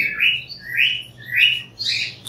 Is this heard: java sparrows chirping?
yes